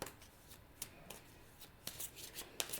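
Tarot cards riffled and shuffled by hand in a few quiet bursts of crisp flicking, with soft card-slapping clicks between them, close and gentle with no talk.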